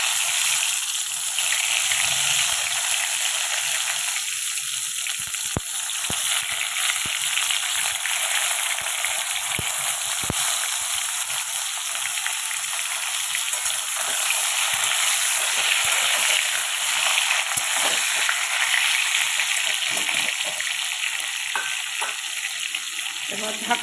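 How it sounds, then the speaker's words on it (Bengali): Pieces of pointed gourd (potol) fry in hot oil with a steady, bright sizzle that holds for a long stretch, broken by occasional crackles and soft clicks of stirring. "তেল ভালো মতো গরম হয়ে গেছে। এবার আমি পটলগুলো তেলে ছেড়ে দেবো।"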